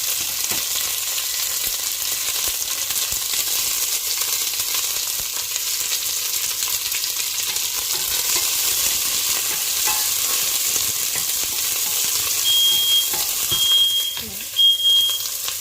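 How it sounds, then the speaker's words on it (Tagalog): Garlic and onion sauté in a pan with a loud, continuous sizzle and occasional stirring scrapes, and a few short high electronic beeps near the end. "Dalayan natin ang bawang at sibuyas"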